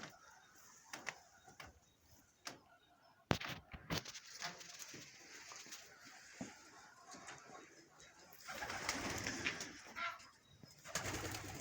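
Soft pigeon cooing from a loft with birds sitting on eggs, scattered wing flutters and light knocks, with a voice speaking now and then.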